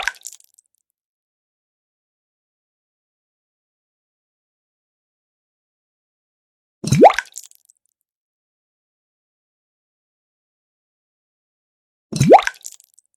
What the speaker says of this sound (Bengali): এবার আমি মাশরুমগুলোকে ভালো করে আবার ধুয়ে নেব